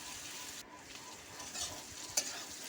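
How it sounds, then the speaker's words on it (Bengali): Pointed gourd frying in a covered pan, a faint, even sizzle with a brief shift early on and a single soft knock near the end, no talk. "তো পটলগুলোকে দিয়ে কিন্তু কয়েক মিনিটের মতো ভেজে নেবো।"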